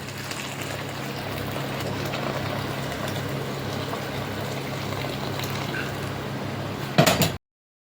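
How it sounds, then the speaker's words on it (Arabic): Boiling water is poured onto two cups of washed, drained rice in a cooking pot, making a steady rushing hiss for about seven seconds that ends abruptly with a brief clatter. "ميه مغليه"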